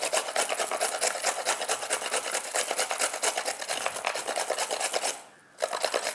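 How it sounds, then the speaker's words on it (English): A carrot is grated into long strips by hand, a steady rapid rasping scrape with fast repeated strokes, close and fairly loud, with a brief pause near the end before the scraping resumes. "I'm just going to grate it into long strips."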